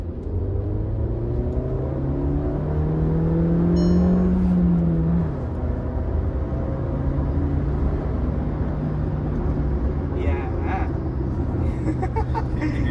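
A Volkswagen Virtus 1.5 GT engine drones steadily under acceleration, its tone climbing for about four seconds before dropping sharply, then settling into a continuous rumble.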